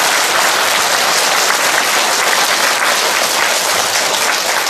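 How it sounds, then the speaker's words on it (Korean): A church congregation at a Catholic charismatic renewal gathering in Incheon gives loud, dense, sustained applause that stays steady throughout the few seconds. "감사와 찬양의 박수를 우리 주님께 드립시다."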